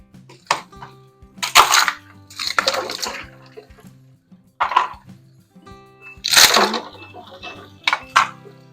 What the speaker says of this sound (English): So I take my ice cubes, dump them in the water.